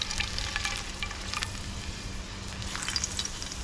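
Red snapper fries in hot oil in a pot outdoors, giving a steady crackling sizzle with dense bursts of spitting pops, close and fairly loud throughout.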